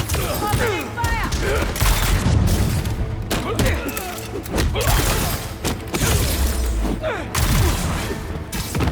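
Gunfire in Marvel's Spider-Man 2, dense and busy, with sharp shots and booms layered among crashes and game effects, under voices talking throughout.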